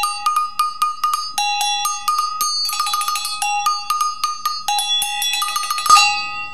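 A larger agogo double bell from Africa, played in a quick, busy pattern that switches between its high and low metal tones, ringing clearly and loudly up close, ending on a louder final strike.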